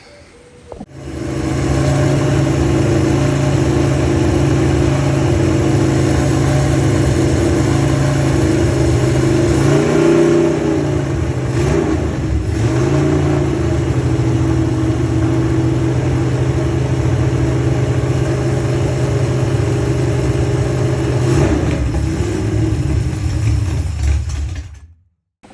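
A Chevy small block 406 V8 fires up for the first time and runs loud and steady for about 23 seconds, with a few revs partway through and no voices.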